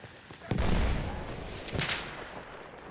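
Autoloading 8.25 rifle firing in Battlefield 1, two sharp loud bursts of shots standing out over steady battlefield noise.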